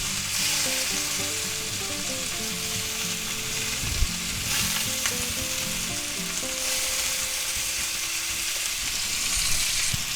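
A sous vide pork chop sizzles in melting butter in a hot pan, a steady close frying crackle with a quiet musical tune playing underneath.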